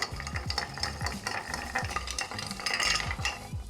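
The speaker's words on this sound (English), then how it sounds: "we're going to actually stir this with ice for a good 30 seconds now" A Sazerac cocktail is stirred with ice, the cubes rattling and clinking in quick, steady rhythmic strokes, close and fairly quiet, with no talking.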